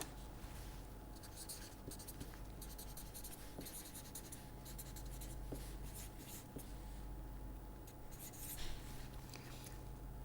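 Chalk or pen writing equations during a lecture, faint scratchy strokes in short bursts with brief pauses, quiet room hum underneath, no speech.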